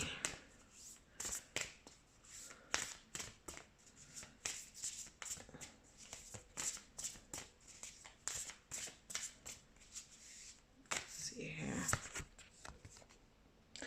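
Oracle cards being shuffled in a steady run of crisp riffling slaps and flicks, close and fairly loud, with a brief rustling flurry near the end and no talking over it.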